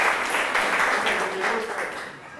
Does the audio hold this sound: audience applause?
yes